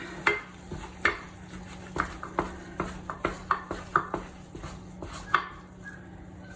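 Wooden spoon beating thick choux paste in a pan over medium heat, giving a steady run of sharp knocks and scrapes against the pan roughly every half second, close and fairly loud, with no talking.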